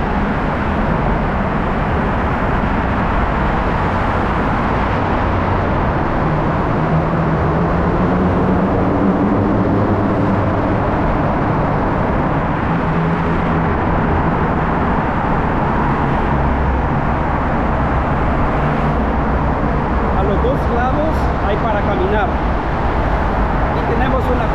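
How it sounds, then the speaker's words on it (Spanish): Loud, constant roar of car traffic on a busy city street near tunnels in a downtown area, heavy low rumble throughout with passing vehicles, a voice talking over it. "hace bastante ruido acá los carros."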